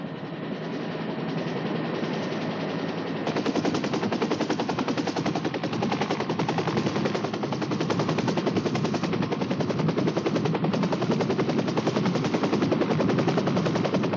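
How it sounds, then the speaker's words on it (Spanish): Helicopter taking off from the King Leopold lagoon: a loud, continuous rapid rotor chop that grows stronger after a few seconds and keeps up steadily to the end. "Cuando el helicóptero despegaba de la laguna del Rey Leopoldo"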